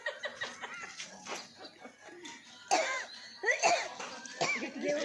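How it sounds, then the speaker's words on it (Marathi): A man with a cough coughs in several short, harsh bursts, close by. Rough, raspy fits come in clusters amid background chatter and commotion. "आमच्या अध्यक्षाला खोकला झालाय."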